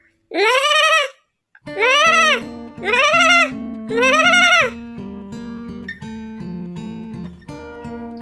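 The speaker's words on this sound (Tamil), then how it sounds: "ஆடு எப்படி கத்தும்" Goat bleating: four loud, wavering bleats in quick succession, followed by a steady tonal backing that plays on alone.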